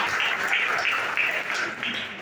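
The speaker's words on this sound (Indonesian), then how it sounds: "Beri tepuk tangan untuk" A church congregation at a Sunday service applauds after a testimony, giving a continuous wash of clapping at moderate level, with some voices blending in beneath it.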